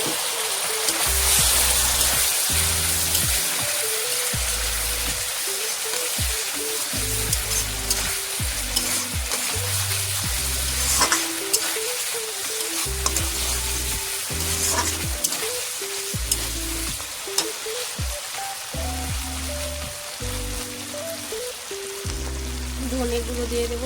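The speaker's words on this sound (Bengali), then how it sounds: "এবারে আমি টমেটো বাটা দিয়ে দেব।" Tomato paste goes into a pan of Bengali-style spicy aila fish curry, setting off a steady, close sizzle with repeated scraping and stirring knocks throughout.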